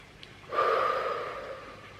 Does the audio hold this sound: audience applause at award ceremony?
no